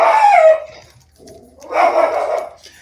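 A dog barks and yips in two close bursts, loud and near, with a short quiet gap between them in a home setting.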